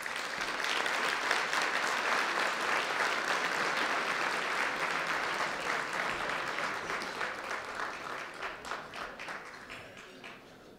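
A lunch audience at a 2013 St. Patrick's event in New York applauds to welcome Minister Pat Rabbitte. The clapping is full and steady, a dense crowd texture that gradually thins and fades toward the end.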